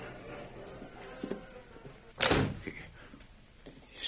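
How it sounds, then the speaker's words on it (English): A door shuts with one solid, heavy thud at close range, set against a quiet room with faint background noise before and after. "I'll close the door."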